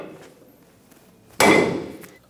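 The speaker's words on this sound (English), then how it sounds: "We're going to use a hammer and hit the knuckle to release the pressure on the upper ball joint." A hammer strikes the steel steering knuckle of a 2005-2010 Toyota Tacoma during front strut mount replacement, giving one loud, close metallic bang with a short ringing decay in a quiet garage.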